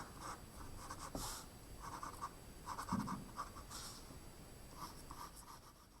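A pencil sketches lines on paper in a steady stream of soft scratchy strokes, close and fairly quiet, with short bursts of faster scribbling.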